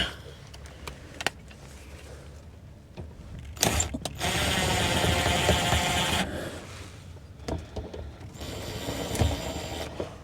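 A power drill drives screws while a cell phone booster is installed in an RV, with two sustained whirring bursts between ratcheting clicks and handling knocks, close by.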